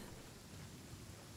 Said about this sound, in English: If it's storming, then there's gonna be lightning.